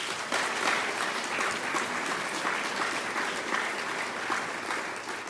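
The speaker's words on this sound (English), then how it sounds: "Let's give them all a round of applause, ladies and gentlemen." A conference audience applauds a panel steadily, a full, continuous roar of clapping that stays even and loud throughout.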